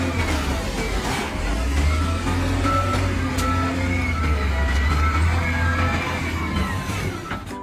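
A toy sand dump truck reversing, its electronic warning beeps repeating steadily over a loud, constant motor-like hum.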